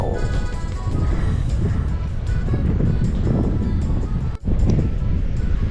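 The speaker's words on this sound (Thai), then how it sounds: "พายุกำลังมาลมแรงมาก" Strong wind buffets the microphone at the sea off Rayong, Thailand, ahead of a storm, a loud continuous rushing roar with a brief dropout near the end.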